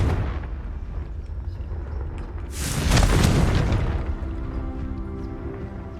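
A Confringo blasting spell goes off in the Hogwarts Legacy video game, a single booming explosion that swells midway and then fades into a lingering rumble over quiet background ambience.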